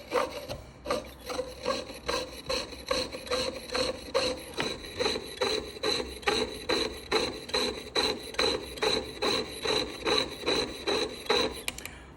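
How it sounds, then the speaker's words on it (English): A saw blade works as a file at the bench, giving steady rhythmic rasping strokes about two per second, close and even for the whole stretch with no talk. "Filing with the saw blade."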